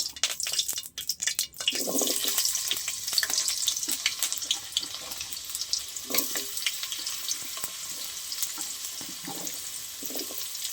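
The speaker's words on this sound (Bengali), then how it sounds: "কুমড়োটা একটু তেলে ভেজে নেব।" Pumpkin pieces frying in hot mustard oil in a kadai, a continuous crackling sizzle with brief stirring clatters near the start, close and fairly loud, no voices.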